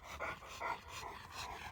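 A dog pants during bite work training, quick rhythmic breaths in a few audible bursts over a low, hissy background, fairly faint and close.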